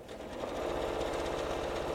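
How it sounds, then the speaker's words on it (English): Sewing machine stitching a baby bib, a steady rapid mechanical whir with a fast needle rhythm running continuously and close up throughout. "All right, so we are sewing, and we are going to see what's going on here."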